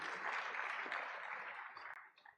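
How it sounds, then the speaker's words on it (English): An audience at a hotel managers' conference in Africa applauding the chairperson of Hotel General Managers in Uganda, a dense burst of clapping that fades out over a couple of seconds. "Another round of applause for her"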